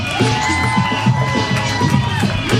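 A comedy club audience cheering, whooping and clapping as the host takes the stage, a dense, continuous crowd roar that stays loud and steady throughout.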